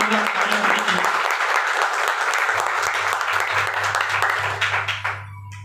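An audience claps at a gathering to welcome new guests: dense, steady applause that runs for several seconds, then thins out and stops, with a low hum beneath it.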